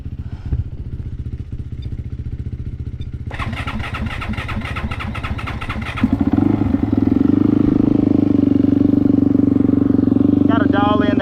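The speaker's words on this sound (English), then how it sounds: "See if this bad boy will crank." A turbocharged dirt bike engine whirs through a few seconds of cranking, then catches and settles into a loud, steady idle close by, with people talking during the start.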